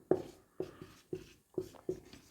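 Chalk or marker writing on a board during a maths lesson, five distinct tapping strokes in a slow, even rhythm, close and fairly quiet with no talk.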